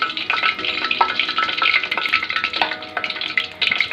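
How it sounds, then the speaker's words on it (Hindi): Besan bhalle dropped one by one into hot oil, sizzling and crackling steadily with bright bubbling bursts and stirring clinks, close and loud without talk. "ये ऑयल गर्म हो गया, इसमें अब हम बल्ले डालेंगे एक एक करके।"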